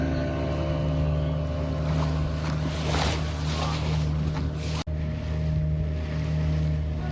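A motorboat engine drones steadily through a boat trip off Goa, with heavy wind buffeting the microphone and water rushing alongside; the noise is loud and continuous with one brief dropout near the end.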